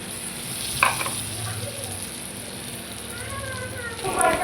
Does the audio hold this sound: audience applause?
no